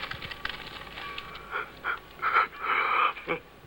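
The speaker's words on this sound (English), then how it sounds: "cover your mouth when you yawn" A dubbed voice yawns in a few drawn-out, breathy bursts with wheezy, panting breaths between them, close and fairly quiet, in a scene where a parent scolds a son at mealtime.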